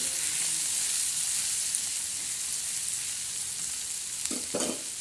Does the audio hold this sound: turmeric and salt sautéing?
yes